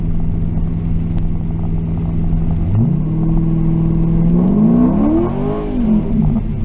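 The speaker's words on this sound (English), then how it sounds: "that should have downshifted to second, but instead it tried to go all the way down to first just then" A Chinavette car with a worn second-and-fourth transmission band whines steadily, then its engine note jumps sharply as the automatic gearbox downshifts too far into first under acceleration, rising and sweeping through revs, loud and close without speech.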